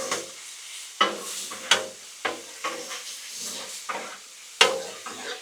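Burger meat sizzles on a Blackstone griddle, with a steady frying hiss punctuated by repeated sharp scraping and stirring hits from a utensil at close range, no talking.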